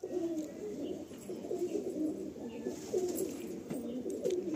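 Domestic bloodline pigeons cooing nearby, soft low rolling coos repeating in a steady pulsing rhythm over faint background noise.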